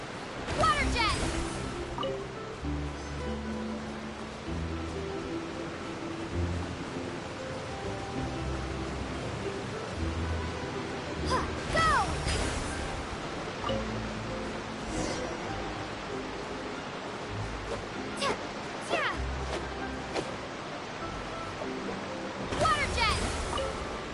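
A large waterfall in the video game Genshin Impact pours with a steady broadband rush of falling water, constant and full throughout, with a few brief louder splashes or game effects breaking through.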